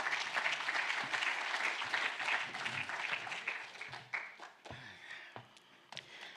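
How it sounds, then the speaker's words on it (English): An audience at a robotics information evening applauds an international judge, a full burst of clapping that gradually tapers into scattered individual claps near the end. "You can give him a round of applause."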